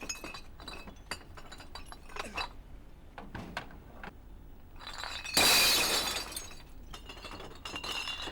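Glass bottles crash into a collection truck on an island in Singapore, with scattered clinks and clatter building to a loud, dense shattering burst midway before the clinking resumes, fairly close.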